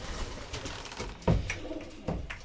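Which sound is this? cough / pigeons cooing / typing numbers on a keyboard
pigeons cooing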